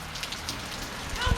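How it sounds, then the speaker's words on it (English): Heavy overnight rain falling steadily in Jamaica, a dense, even hiss of drops on surfaces throughout, with a louder low patter swelling near the end and no talk. "From last night till this morning, it's just been pure rain."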